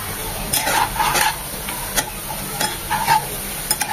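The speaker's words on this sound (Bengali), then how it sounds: "এই অবস্থায় আর একটু ভাজবো পেঁয়াজটা" Onions fry in a pan for shahi pulao: a continuous hot sizzle up close, with repeated scraping stirs and light clinks of the spoon.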